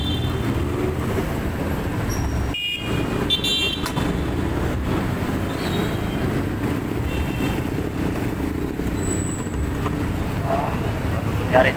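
Steady roadway traffic on a congested Philippine street, a continuous low rumble of passing vehicles with a brief horn toot near the start, persisting throughout.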